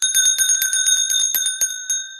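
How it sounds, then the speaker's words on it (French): A small hand bell rings in quick repeated shakes for about two seconds, bright and close, with steady clear tones and no voices over it. "J'ai la petite cloche, je n'ai pas la grande cloche."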